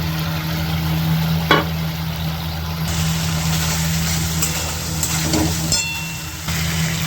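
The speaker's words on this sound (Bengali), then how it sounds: "এবার আমি আলুগুলো এর মধ্যে দিয়ে দিচ্ছি।" Potatoes go into spice masala frying in oil, giving a steady, fairly loud sizzle over a constant low hum, with a few clinks of a stirring spoon against the pan.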